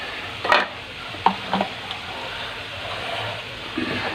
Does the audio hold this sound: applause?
no